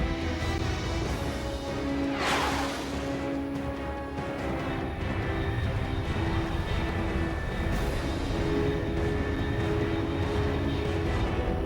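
In Metal Gear Solid 3, a fast jet aircraft streaks past at over Mach 3, a broad roaring rush that swells and fades over a continuous engine drone and background hum.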